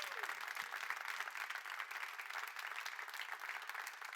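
A church congregation claps for Jesus in a steady, dense round of applause that holds at an even level throughout, heard from a distance and rather quietly, with some faint voices mixed in.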